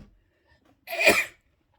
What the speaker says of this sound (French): Je vais éternuer, pardon.